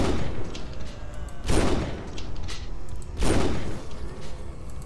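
Gun firing in the zombie survival game Project Zomboid, two sharp, loud gunshots about two seconds apart over a steady background hum, each with a short echoing tail.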